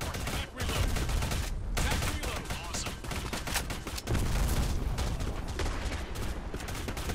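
Minigun fire in the BlackSquad online shooter roars as a dense, continuous hail of rapid shots with only brief dips, loud and close throughout.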